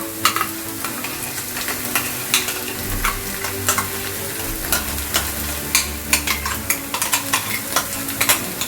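Blended spice paste going into frying onions for egg lababdar, with a loud continuous sizzle and repeated scraping stirs of a spoon against the pan at an uneven rhythm.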